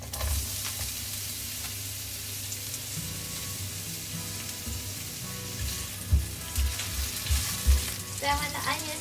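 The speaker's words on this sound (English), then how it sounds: "Then add in your onion." Chopped onion frying in oil in a wok, a continuous close sizzle and hiss that swells louder toward the end, with stirring scrapes and a few knocks against the pan.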